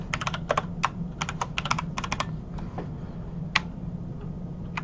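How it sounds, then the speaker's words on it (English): Quick bursts of keystrokes on a computer keyboard, clustered taps with short pauses, close and fairly quiet. "Jason is typing in a class name"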